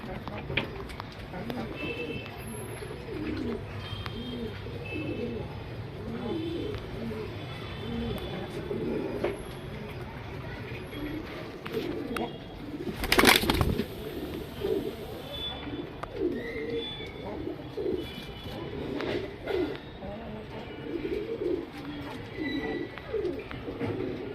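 Pigeons kept as breeding pairs coo repeatedly in soft, low bursts close by, with a brief sharp noise partway through and a person talking over them.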